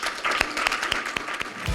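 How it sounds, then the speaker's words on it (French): An audience claps at the 25th-anniversary Balade Gourmande food festival, a crowd's lively applause with sharp individual claps standing out from the dense patter, heard near and fairly loud without speech. "je vous demanderai tout de suite, d'entrée de jeu, une bonne main d'applaudissements"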